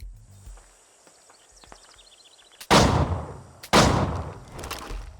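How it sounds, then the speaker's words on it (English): Scottish steel pistols fire in an Assassin's Creed game: two loud, sharp blasts about a second apart, each with a long booming tail, following quieter clinks and footsteps in the game's soundscape. "put them down with the pistol shot"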